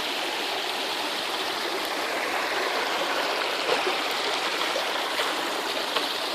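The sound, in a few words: water flowing down a small waterfall into a creek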